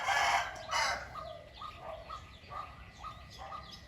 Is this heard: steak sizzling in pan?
no